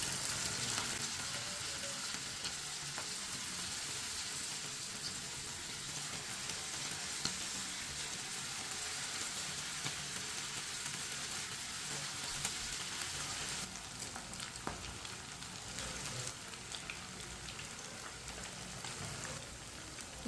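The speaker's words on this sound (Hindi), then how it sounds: "अब चिकन का एक एक पीस करके डाल लेंगे" Steady, dense sizzling and crackling of chicken pieces frying in hot oil, continuous and close throughout with no talking.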